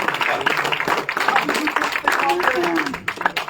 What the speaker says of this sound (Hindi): तालियों से स्वागत करें उनके।